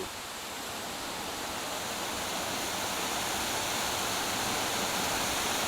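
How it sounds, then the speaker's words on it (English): A waterfall in the Swiss mountains roars steadily, a constant broadband rush of falling water that grows slightly louder and never lets up. "we're on waterfall number 2"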